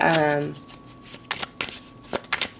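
Tarot cards being shuffled by hand, a few quick close riffles and taps after a brief tone at the start.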